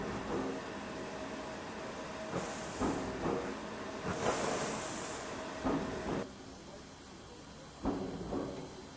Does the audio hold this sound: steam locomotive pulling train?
yes